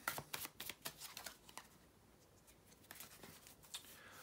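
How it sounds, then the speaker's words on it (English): Quick riffling tarot card shuffles in several short bursts, close and crisp, with a pause midway before a few more riffles. "As usual, to shuffle the tarot cards,"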